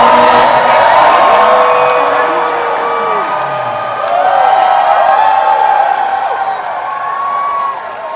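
A large convention crowd at Star Wars Celebration Japan cheers and whoops loudly and continuously, with scattered clapping and shouts rising and falling throughout.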